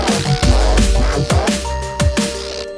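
A synth bass riff runs through a bandpass filter swept by an LFO, repeating short plucked notes that dip and rise in a steady loping rhythm, loud and alone.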